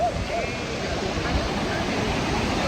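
Ocean surf washing and breaking around people wading in cold water off Myrtle Beach, a steady broadband wash with no clear individual wave crashes, continuous and fairly loud throughout.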